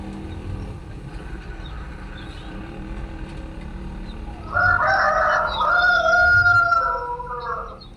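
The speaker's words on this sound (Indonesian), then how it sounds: "Suara ayam itu bang" A rooster crows loudly partway through, a long strained call rising over a dull steady background hum.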